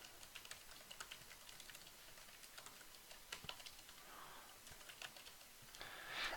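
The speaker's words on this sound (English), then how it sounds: "I start typing here." Soft, steady clicking of fingers typing on a computer keyboard, quiet and close, with an irregular tapping rhythm.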